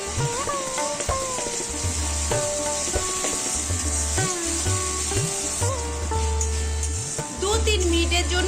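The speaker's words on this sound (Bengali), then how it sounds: "এবার দিয়ে দিচ্ছি আদা, রসুন, কাঁচা লঙ্কা পেস্ট। নেড়ে চেড়ে নিচ্ছি।" Ginger, garlic and green chili paste fries with browned onions in a pan for chicken tikka masala, a continuous close sizzle with rhythmic spatula stirring and scraping, while a voice speaks over it.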